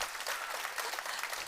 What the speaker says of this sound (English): Give another round of applause to the startups and our amazing jury.